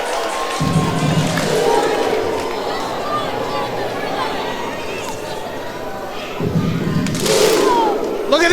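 A wrestling event crowd cheers and roars throughout, loud and continuous, with thuds and a commentator talking over it.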